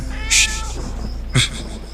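A cat meows twice, close and loud, with short clear calls about a second apart over a quiet, faintly humming room.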